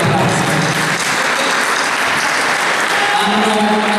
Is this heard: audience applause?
yes